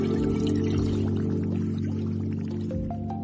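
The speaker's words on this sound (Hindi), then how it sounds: "मैं पानी का जादू कर सकता हूँ।" Water pouring steadily as a magic effect, a continuous liquid flow with faint drips and a low hum beneath, close and fairly loud throughout.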